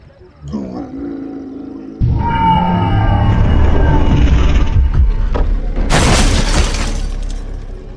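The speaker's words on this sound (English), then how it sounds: "He broke down! Right at the platform! There goes all our glass vials." A video game golem breaks down at a cargo-lift platform, with a low roaring, grinding rumble building to a sudden loud, bright crash of glass vials shattering near the end, amid layered game effects.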